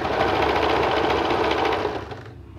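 A sewing machine stitching a pair of shorts runs in one fast, steady buzzing burst up close, then slows and stops near the end, with no talking.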